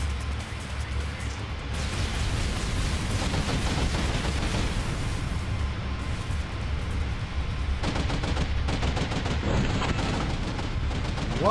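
Sustained gunfire and explosions in the Angels Fall First combat game, a dense wall of rapid shots and booms throughout, with bursts of crackling fire near the start and again toward the end.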